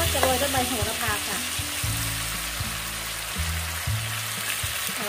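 Eggplant and pork belly stir-frying in a hot pan, giving a loud, steady, continuous sizzle with low scraping stirs beneath it, heard up close with no talking.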